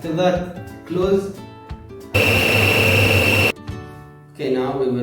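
A kitchen blender whirs loudly for about a second and a half, blending bananas and honey, between stretches of a person talking nearby.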